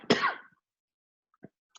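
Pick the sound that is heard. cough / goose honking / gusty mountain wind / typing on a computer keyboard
cough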